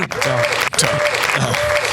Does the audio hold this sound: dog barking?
no